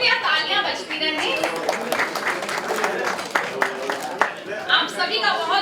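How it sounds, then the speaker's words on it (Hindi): Audience clapping to welcome guests at a family get-together, a steady wash of many hands sustained throughout, with a voice speaking over it. "कृपया तालियां बजती रहें"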